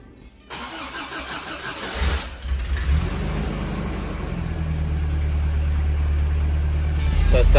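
First-generation Toyota 4Runner with new spark plugs cranks and starts, then its engine revs and holds a steady, rising roar up close, with no talking.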